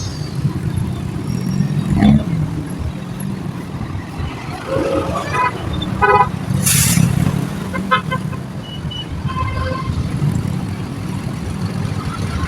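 Heavy evening road traffic in North Fairview, with a constant close engine rumble and several short car horn toots sounding at intervals, some in quick repeated bursts, with no talking.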